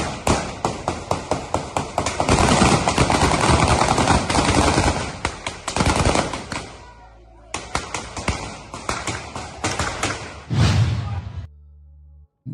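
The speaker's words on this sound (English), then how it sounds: "Whoever fired that gunshot should be fired." Rapid bursts of gunfire, many sharp shots in quick succession, loud and close, continuing for about ten seconds with brief pauses, fired during the Anambra State elections.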